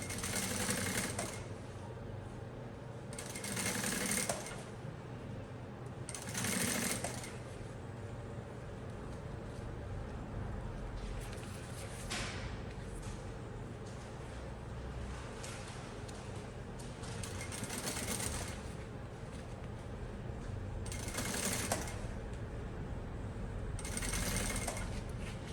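A sewing machine stitches a backpack in repeated bursts of fast mechanical whirring, each run lasting a second or two with short pauses between, close and steady throughout.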